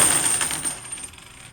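A handful of 90% silver coins dropped onto a table rings out in a bright, dense jingle as they strike the surface and each other, then shimmers and fades over about a second and a half.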